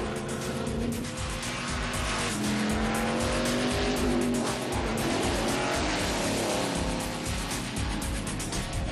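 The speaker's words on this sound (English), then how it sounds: "right now, there's only one of us that's driving the greatest sports car" A Corvette C6 Z06 sports car drives hard, its loud engine roaring steadily throughout, with rising and falling pitch as it accelerates and tire squeal breaking through.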